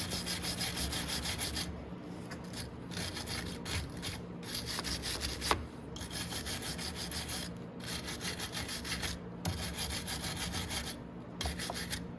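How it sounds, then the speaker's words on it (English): A handheld wire brush scrubs a 50cc scooter spark plug, giving a continuous close scratchy rasp in repeated strokes with brief pauses between them. "this is just a handheld wire brush"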